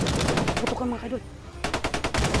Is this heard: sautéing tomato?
no